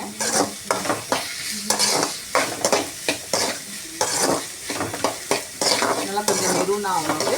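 Frying for egg macaroni on a high flame, a busy sizzle in a pan with repeated scraping stirs and clinks of a spoon against the metal, close and fairly loud, with no one talking.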